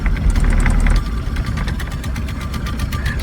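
A Mercedes 380SL roadster with a swapped turbo diesel OM603 engine driving, its clattering diesel drone loud and close, with steady knocking pulses throughout.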